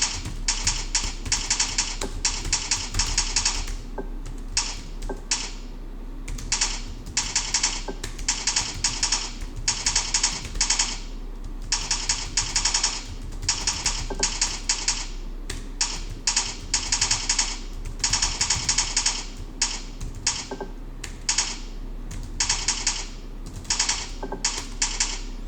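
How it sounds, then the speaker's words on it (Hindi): Steady, rapid typing on a computer keyboard during an online English session, dense clusters of close key clicks with brief pauses, continuing throughout with no talking. "कीबोर्ड मेरे से थोड़ा सा ज़रा पीछे है तो मुझे इसलिए थोड़ी मिस्टेक्स भी हो रही हैं।"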